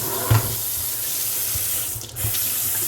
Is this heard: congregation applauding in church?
no